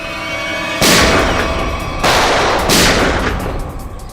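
Gunfire in a tense armed standoff: three loud, close, booming shots with long echoing tails, spaced about a second apart over a low background hum.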